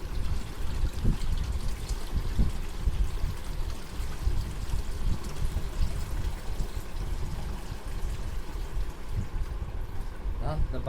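Water poured from a bucket into an air cooler's tank makes a steady, close gushing and splashing that runs continuously.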